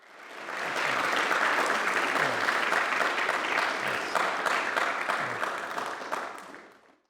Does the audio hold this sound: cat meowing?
no